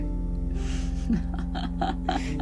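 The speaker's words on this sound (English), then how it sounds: "This yawning helps you to open up your whole body." A person yawns with a breathy, drawn-out gasp midway through a legs and hips stretching exercise, set over a steady low background hum.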